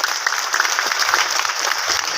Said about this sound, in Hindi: एक बार ताली से सम्मान कर देना।